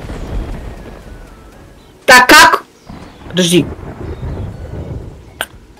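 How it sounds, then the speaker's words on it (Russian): Thunder crashes during a storm in Terraria, two loud rumbling bursts a second apart, with people talking over the game sounds. "А, нет, это гроза."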